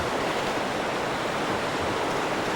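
Whitewater river rapids in Tanzania roar as a dense, continuous wash of rushing water, loud and unbroken throughout, with no voices.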